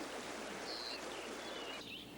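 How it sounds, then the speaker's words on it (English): A swift-moving stream rushes steadily nearby, a broad unbroken wash of water noise with a faint bird call rising above it. "For water ouzels, a swift-moving stream is a convenient barrier to predators."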